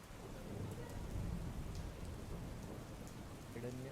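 Heavy rain pours down steadily during a severe downpour in Wayanad, Kerala, a dense, continuous hiss of falling water with low rumbling underneath, fairly faint and without voices.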